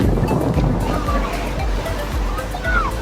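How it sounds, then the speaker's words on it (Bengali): Ocean waves crash and wash onto the shore at Puri beach, a loud continuous roar of surf with rolling low rumbles; a voice speaks briefly over it. "দেখো কি জোরে ঢেউ"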